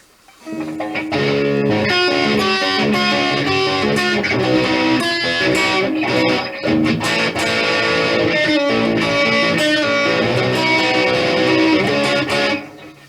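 Electric guitar, a Kramer Pacer Classic, plays continuously through a compressor and delay, compressed and loud, with delayed echoes repeating each note for a steady dense wash of sound.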